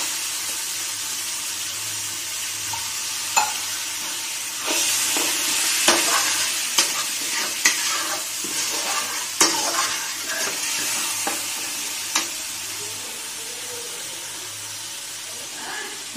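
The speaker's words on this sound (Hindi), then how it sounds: "अब टमाटर भी अच्छे से इसमें भून जाएंगे।" Chopped tomatoes frying for masoor dal, a loud close sizzle with repeated sharp spatula scrapes and knocks against the pan at an uneven rhythm.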